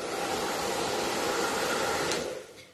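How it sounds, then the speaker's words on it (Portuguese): Hair dryer blowing dust off a wooden craft pallet, a steady loud rushing whoosh held close to the mic for over two seconds before it tapers off. "Eu vou jogar o secador aqui pra tirar essa poeirinha."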